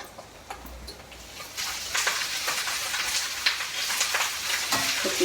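Chopped onions frying and being stirred in a pan, a steady close sizzle with scraping stir sounds that grows louder partway through, no talking.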